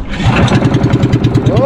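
A partly broken boat engine on a shrimp-catching trip chugs loudly and close in a fast, steady pulsing rhythm, with voices talking over it.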